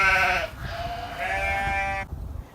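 Sheep bleat in two or three drawn-out, wavering calls close by over a low rumbling background, ending abruptly.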